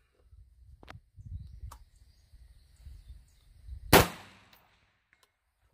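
A single sharp gunshot from a gas-operated 3-gun rifle with an 18-inch barrel firing 69 grain ammunition, loud and close with a brief ringing tail, after quieter handling noises.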